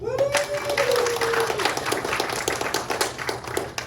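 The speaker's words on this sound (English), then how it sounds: "And give a round of applause, please, everyone." Audience applause at a Traveller gaming convention session, a steady wash of many hands clapping close by, lasting several seconds, with a brief vocal tone near the start.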